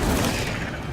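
A brief, dense burst of magical fire from the Incendio spell in Hogwarts Legacy, a loud crackling whoosh that fills the whole second with rough, explosive texture.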